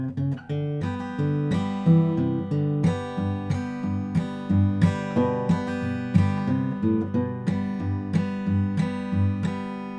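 Fingerpicked guitar playing a riff beneath the chords, with plucked bass notes and strummed chord hits in a bouncy, steady rhythm, close and clear with no talking.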